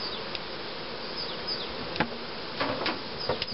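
Steady dense buzzing of many honey bees close by at a hive in the morning, a continuous insect hum with occasional louder passes of individual bees near the microphone.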